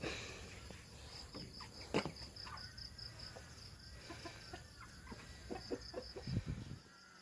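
Scattered soft clucks from chickens, brief and irregular, over a steady background hum with occasional louder bursts near the end.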